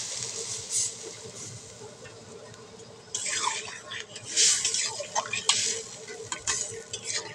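Curry with mustard paste being stirred in a pan, a continuous close scraping and sizzling that grows busier partway through with sharp clinks of the utensil.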